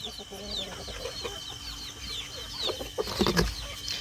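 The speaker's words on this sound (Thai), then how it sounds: "ไก่ผูตัวนี้นะมันพยศก็เลยค้างมันไว้ผู้เดียว" An aggressive rooster kept penned on its own clucks repeatedly at close range, with other bird chirps in the background and a louder burst of clucking near the end.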